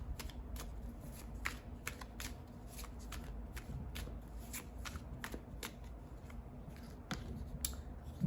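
Tarot cards being shuffled by hand: a long run of quick, close, papery riffles and flicks in an uneven rhythm, soft and steady throughout.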